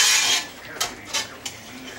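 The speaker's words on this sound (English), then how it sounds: "the pasta, which is about halfway cooked in boiling water, goes into the pot of spaghetti sauce." Half-cooked pasta is tipped from boiling water into a pot of spaghetti sauce for Cajun chicken spaghetti: a wet rushing slide, then a few soft splats and clinks as it lands, close by with no talk.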